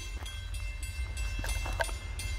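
A train approaches inside the Hoosac Tunnel: a steady low rumble with a faint rattle and a few brief higher squeals or clicks, moderately loud and continuous, with no voices.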